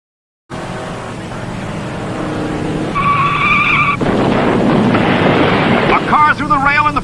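A NASCAR stock car spinning out at Darlington, with loud tire skidding and squealing over engine noise that builds and intensifies partway through. A commentator talks over it.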